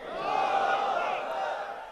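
A large crowd at a religious gathering roars a slogan back in unison, a loud, sustained massed shout lasting about two seconds before tailing off.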